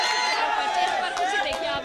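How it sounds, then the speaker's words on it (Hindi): Family members cheer and clap during a wrestling bout, a steady dense crowd roar of voices and applause filling the whole stretch without a break. "चीयर्स कर रहे हैं, तालियां बजा रहे हैं सभी परिवार वाले"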